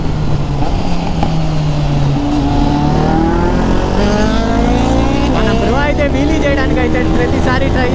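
Superbike at full throttle in a Dominar versus KTM 390 drag race, engine whine climbing steadily in pitch through gears under loud wind roar, with someone talking over it.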